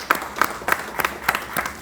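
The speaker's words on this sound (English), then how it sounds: "Another round of applause for yourself." Audience at a startup pitch finals event applauding, a short burst of clapping from a small crowd, fairly close with distinct rhythmic claps.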